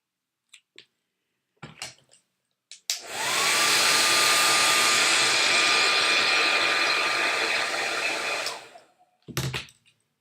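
A hair dryer heating an iPhone skin wrap, switched on with a click and blowing loud and steady for about six seconds close by before cutting off, with light handling taps before and after.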